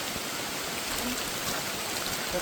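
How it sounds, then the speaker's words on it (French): Rain falls near a flowing river on a jungle trail in French Guiana, a steady, dense wash of water noise with no distinct drops, close and continuous throughout. "j'ai l'impression qu'il pleut un peu moins déjà là"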